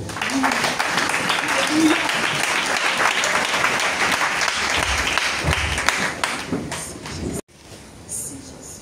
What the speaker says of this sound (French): Assieds-toi et acclame la parole